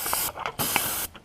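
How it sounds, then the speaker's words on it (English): Short, close bursts of brake cleaner spray hiss in quick succession onto a 2013 Chevy Cruze 1.8-liter engine during water pump replacement: two longer sprays with brief pauses, then a final quick squirt. "we're going to take a little brake clean and spray that down"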